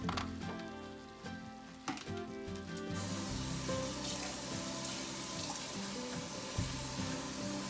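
Water streams from a tap into a pan of rice being cooked for yellow Spanish rice with shrimp and chicken, a loud steady rush that swells after a few seconds of quieter kitchen sounds and continues to the end.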